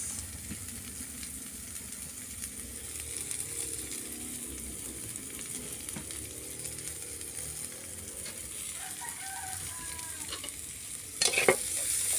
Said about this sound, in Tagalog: Medyo luto-lutuin pa po natin ng kaunti ang ating sibuyas